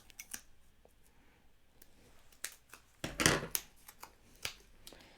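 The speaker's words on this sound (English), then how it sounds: "Maybe I'll cut this part off." Paper being cut with scissors while making a sketch, a few quiet snips and rustles, then a louder burst of crisp cutting and crinkling in the middle, with scattered clicks around it.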